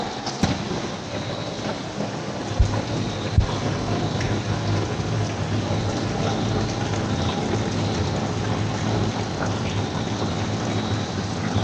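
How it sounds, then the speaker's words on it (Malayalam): Heavy rain pours down in a steady, dense hiss close by, with a couple of brief sharp knocks early on and no voices over the downpour. "അപ്പോൾ ഇപ്പൊ നല്ല മഴ."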